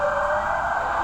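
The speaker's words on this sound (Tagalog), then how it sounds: "may dumadaan na na bumbero" A fire truck siren sounds as it passes, a loud, steady high tone sustained throughout with no voices over it.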